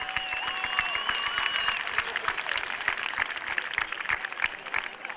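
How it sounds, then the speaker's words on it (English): An audience at a university Madibaz Day event breaks into sustained, dense applause, steady crackling claps from a large crowd continuing throughout, with some faint talk beneath. "Give them a round of applause."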